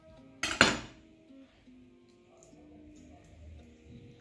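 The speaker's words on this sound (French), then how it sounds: "l'oignon, alors comme il était depuis hier déjà, on va commencer par couper le morceau là" A kitchen knife slices into a day-old onion on a cutting board, one sharp close knock and clatter near the start, then quiet handling sounds.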